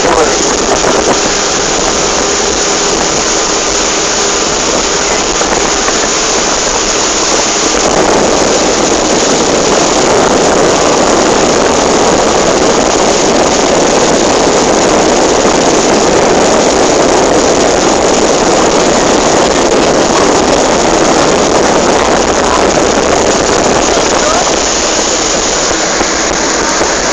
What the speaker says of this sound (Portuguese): um empurrador para trás das balsas, pode ter até 4 motores